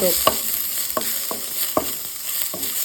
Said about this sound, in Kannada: ಇನ್ನು ಪಾಡ್ಯ ಈರುಳ್ಳಿ ಫ್ರೈ ಆವಡು